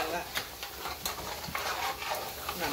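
A Haitian vegetable stew (legume) being stirred in a pot, a soft continuous sizzle broken by scraping spoon strokes, with a voice speaking briefly beneath.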